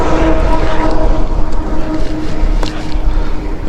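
A Benelli TNT 600i motorcycle's inline-four petrol engine runs close by with a steady, dense mechanical rumble at an even level, with no clear rev peaks.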